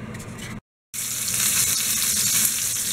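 Venison shanks sizzle loudly as they brown in hot oil, a steady dense frying hiss that cuts out for a moment and then resumes stronger for the rest of the time.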